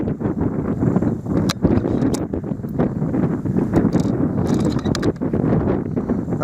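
Strong 20+ mph crosswind buffeting the microphone at an outdoor rifle range, a loud continuous roaring rumble with gusty bursts and no voices.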